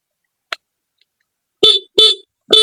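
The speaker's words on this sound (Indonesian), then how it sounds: "Ini klakson nyala." A scooter horn on a Honda Vario beeps three times in short, loud honks, following a single faint click, close by with silence between.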